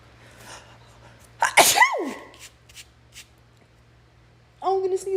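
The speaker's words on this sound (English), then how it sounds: "Oh, I'm gonna sneeze again." A single loud human sneeze bursts out after a quiet stretch in an indoor streaming setup, followed by brief vocal sounds at the end.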